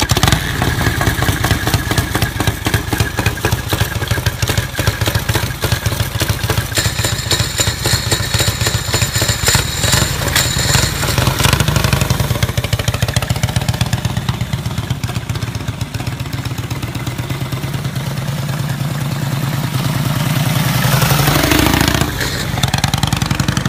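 A chopper-style motorcycle engine runs steadily throughout, a dense, close, loud rumble with a fast clattering pulse and slight shifts in pitch toward the end.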